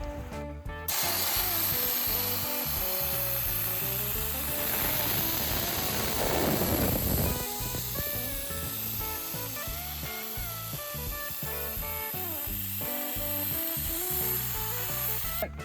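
Sandblaster blasting a car rim for restoration, a loud continuous hissing roar with a brief harsher burst in the middle, running steadily without talk.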